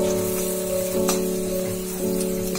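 Shallots and curry leaves sauté in a hot pan, giving a steady, close sizzle and crackle of frying with a faint stirring sound and no talk.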